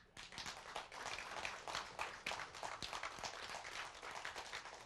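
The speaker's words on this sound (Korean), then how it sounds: "박수 좀 쳐요." An audience at a Korean storytelling lecture claps steadily in a dense patter of hand claps that continues throughout. The sound is faint and distant, with no talking over it.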